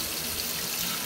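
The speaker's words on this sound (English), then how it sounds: "I like to just fill up the pot with some water." Tap water runs into a cooking pot in a home kitchen, a steady, close, fairly loud rushing stream with no talking.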